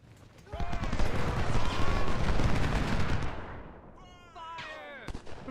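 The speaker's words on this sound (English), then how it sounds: "Is that my artillery firing?" Artillery and gunfire in an Ultimate General: Civil War battle at Cold Harbor, a dense sustained roll of booming shots and crackling fire that fades, followed by a few sharper isolated reports.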